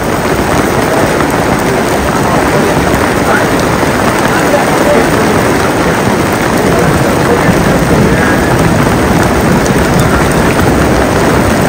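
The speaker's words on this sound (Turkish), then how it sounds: "Kaç gündür bekliyoruz biz bu yağmuru. Böyle yağmasını." Heavy rain pours steadily and loudly outdoors in the mountains, a dense unbroken hiss throughout with no pauses, close to the microphone.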